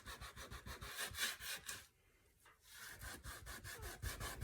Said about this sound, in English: So I'm just scrubbing.